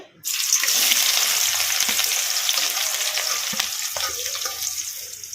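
Onions hitting hot oil in a kadai burst into a loud, sudden sizzle that settles into a steady crackling fry, with occasional stirring taps.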